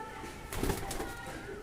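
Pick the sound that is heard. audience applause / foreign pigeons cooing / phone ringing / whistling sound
foreign pigeons cooing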